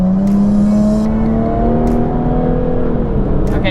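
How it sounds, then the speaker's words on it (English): Jaguar F-Type V6 coupe accelerating hard with its exhaust valves open and dynamic mode off, a loud, close engine roar climbing through the revs with brief breaks for gear changes. "that's the dynamic mode off, but I have still the exhaust pipe open, and then you still have a lot of noise"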